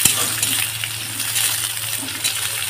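Chopped onions drop into hot mustard oil in a pan, giving a steady bright sizzle and hiss that runs throughout without a break, loud and close.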